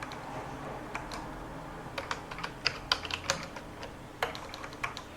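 Fast computer keyboard typing, bursts of clicky keystrokes, some louder and closer together, over a quiet room hum with no voices.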